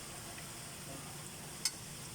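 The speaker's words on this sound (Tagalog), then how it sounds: "Prito na nga" A soft, steady sizzle of food frying in oil, quiet and even, with one small pop.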